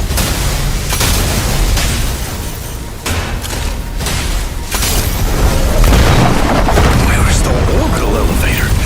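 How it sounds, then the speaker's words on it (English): Heavy booming blasts and thudding impacts from Gauss cannons in the mech combat game Mecha Break pile up in a dense, loud barrage that continues with hardly a pause. "You can also use Gauss cannons to attack. Gauss cannons' powerful impact can immobilize the target."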